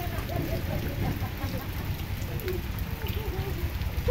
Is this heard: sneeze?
no